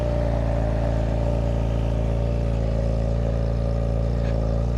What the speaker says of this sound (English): this is a cold start, which means the bike is idling at a higher RPM